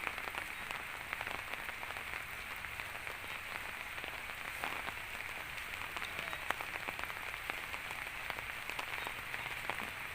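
Steady rain falls and patters on surfaces, a soft, even hiss with scattered droplet ticks, fairly faint and continuous with no voices.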